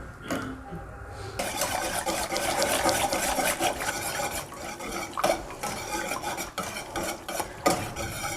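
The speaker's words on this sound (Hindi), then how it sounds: "इसको अच्छी तरह मिक्स करना है ताकि गिल्टी ना बने।" A spoon steadily stirs and scrapes through a thick kheer mixture with cardamom powder in a metal pot, making continuous close rasping and scraping with occasional clinks against the pan, and no voices.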